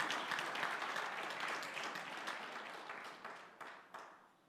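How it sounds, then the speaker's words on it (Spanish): A church congregation claps together, a dense burst of applause that starts full and gradually thins out over a few seconds, with a few last claps at the end. "Dale palmas al Rey."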